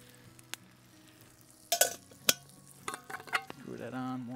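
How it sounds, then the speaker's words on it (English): Baked beans being stirred in a pot outdoors at a backcountry camp, with a few scraping clinks of the spoon against the metal over a low, steady sizzle of the pot on the heat. "I gotta stir that again."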